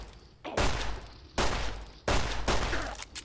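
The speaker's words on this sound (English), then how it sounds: "Maybe I could shoot her a bit." Gunfire in Fallout: New Vegas comes as three loud, heavy bursts of shots, each rumbling for about half a second with short gaps between, and no talk over it.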